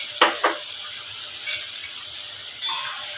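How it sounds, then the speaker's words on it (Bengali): Tomato paste being stirred into a pan for a green soya paneer curry, with a faint steady sizzle underneath and a few scraping spoon strokes standing out at irregular moments. "টমেটো পেস্ট দিয়ে আবার নাড়াচাড়া"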